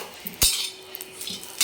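Metal spoon clanks sharply once against a pan as grated coconut goes in to roast for a home-style egg dish, followed by faint scraping and a second clink at the end.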